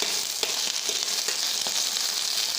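Leafy greens fry in a pan with a steady, close sizzle and light stirring scrapes, a continuous crackling hiss throughout with no talking.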